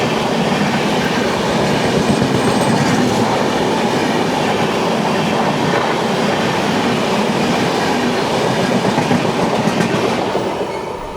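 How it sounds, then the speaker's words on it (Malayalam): The Jnaneshwari Express from Shalimar to Lokmanya Tilak Terminus runs on its rails in a loud, continuous roar heard close up, with steady clickety-clack beats and faint wheel squeal throughout. "ജ്ഞാനേശ്വരി എക്സ്പ്രസ് ആണ്. Shalimar to Lokmanya Tilak terminus Dnyaneshwari."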